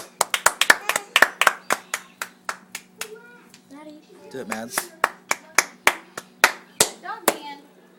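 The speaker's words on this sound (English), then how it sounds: "Clap your hands, Josh." A baby or small child clapping hands in a toy section while an adult urges them on; about two dozen sharp, close claps in uneven bursts, with a child's and an adult's voices talking between them.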